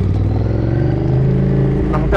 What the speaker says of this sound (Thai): ผมก็เอารถมาหวดเล่นๆบ้างเพื่อให้รถมันได้ร้อนบ้างได้ออกกำลังกายของมันบ้างครับ